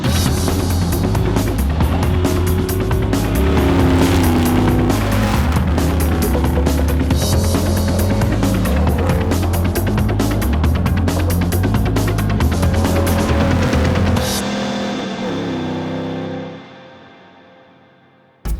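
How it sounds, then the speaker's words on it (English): The Bowler Nemesis, a Range Rover Sport-based rally car for endurance events, drives on a Catalonia off-road course, its loud, steady engine drone mixed with a strong rhythmic throbbing that fades out near the end. "a surprise visit from the Bowler Nemesis vehicle, a rally car used for endurance events based on the Range Rover Sport"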